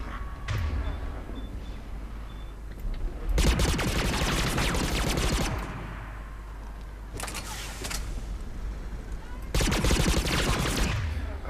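Geth Pulse Rifle fire in the Mass Effect 3 battle on Thessia, with three long loud bursts of rapid energy shots, each lasting a second or two, between quieter stretches of distant combat noise.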